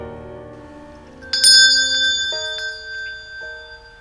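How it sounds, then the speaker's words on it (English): A bell rings out clearly within a theatrical musical scene, a bright metallic strike whose tone lingers and decays over several seconds above a soft musical backdrop. "You may also ring the bell."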